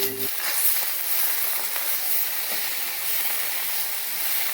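Pumpkin leaves cooking in a pan give off a continuous hissing sizzle, broad and even in loudness for the whole stretch, with no voices over it.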